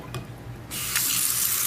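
A touchless pull-out kitchen faucet head spraying water into a sink, a soft trickle first, then a steady, hissing spray that starts abruptly and continues close by.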